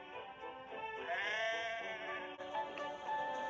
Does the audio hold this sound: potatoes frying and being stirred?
no